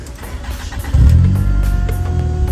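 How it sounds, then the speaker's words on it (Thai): A Toyota 3S-FE engine swapped into a BMW E30 with an automatic gearbox idles, then revs up and holds a raised, steady drone, with a faint high fuel pump whine running underneath. "วัดรอบขึ้นตามปกตินะครับ จะมีเสียงปั๊มติ๊กดังนิดนึงเนาะ"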